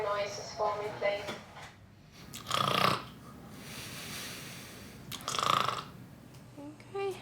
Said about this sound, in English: I'd like you to make some nice loud snoring noises for me, please